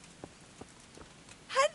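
A horse's hooves clop a few slow, soft steps in the medieval game Kingdom Come, followed by a short voiced sound at the end.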